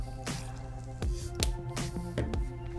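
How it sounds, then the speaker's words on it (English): Two squirts of sneaker cleaning solution from a small 4-ounce bottle into a bowl of water: several close, wet squishing spurts and sputters over a low steady hum. "Now you're gonna wanna squirt 2 squirts into our water."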